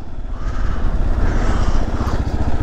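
A 2022 Kawasaki KLR dual-sport motorcycle engine labors loudly and steadily as the bike climbs a hill, with continuous close throaty rumble and no pauses.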